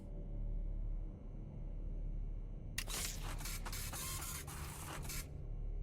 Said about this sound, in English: Place the collected sample into the chromatograph.